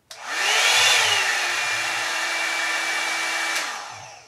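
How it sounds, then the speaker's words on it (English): A Revlon One Step hair dryer brush switched on and running, a steady close whirring airflow with a high whine that holds for about four seconds before cutting off. Nobody speaks over it. "you just like turn this and it literally sounds like a hair dryer"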